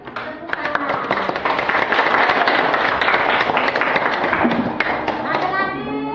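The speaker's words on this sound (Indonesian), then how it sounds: "kita berikan tepuk tangan" Classroom applause from students during a teacher's coaching session, a dense rattle of clapping that swells and holds steady for several seconds, with children's voices and a few thuds mixed in.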